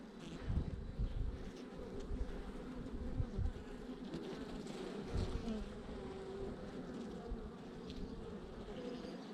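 Honeybees buzz steadily around an opened hive during an inspection, a continuous close hum with no speech over it.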